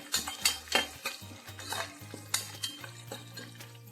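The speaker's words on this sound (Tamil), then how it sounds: "கொஞ்சம் முந்திரி போடுறேன் அதை லேசாக வதக்கிக்கலாம்" Cashews stirred and lightly sautéed in a pan for mushroom biryani with bay leaf, giving soft scraping spoon strokes and faint sizzling in an irregular rhythm, close and fairly quiet.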